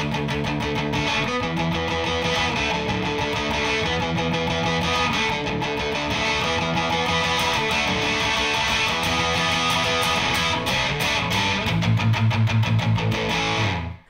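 Dense, full-band electric guitar chords from the chorus ending of a song strum steadily for several bars, ending with a sustained final chord that rings out and cuts off.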